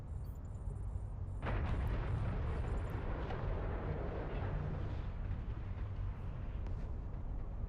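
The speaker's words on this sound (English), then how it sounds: "that was a big old explosion." A large explosion in the EVE Online space game erupts with a sharp onset about a second and a half in, then rolls on as a loud, sustained low rumble for several seconds, with no talk over it.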